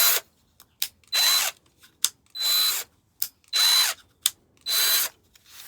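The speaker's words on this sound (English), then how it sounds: "that is the Parkside 20-volt drill" A Parkside 20-volt cordless drill whirs in four short bursts with brief pauses between them, close and loud, with faint clicks in the gaps.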